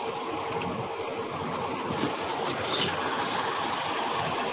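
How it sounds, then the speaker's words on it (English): Steady car cabin noise, a low engine and road rumble, carries through an unmuted phone on a video call, a continuous moderate drone with no talking. "someone who sounds like they're in a car, can you put your phone on mute?"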